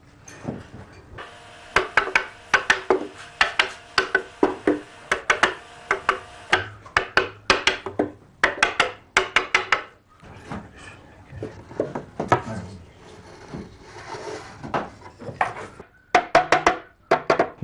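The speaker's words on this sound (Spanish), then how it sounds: "Ahora voy a introducir las separaciones de cajones." Wooden drawer dividers being fitted into a handcrafted bone-and-wood bargueño cabinet, with irregular clusters of sharp wooden knocks, taps and clacks close by, separated by quiet gaps.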